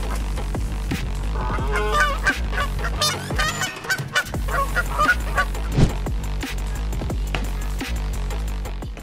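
Geese honk loudly and repeatedly in a dense, overlapping chorus, nasal calls piling up close by with a steady rumbling background throughout, near a herd of cattle.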